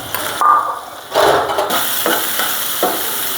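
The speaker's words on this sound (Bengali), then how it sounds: "ফ্রাই প্যানে আর একটু তেল দিয়ে পেঁয়াজের বেরেস্তাটা বানাই" Chopped onions fry in oil in a frying pan, a steady sizzle broken by louder bursts of stirring and scraping at irregular intervals, close and clear with no talk.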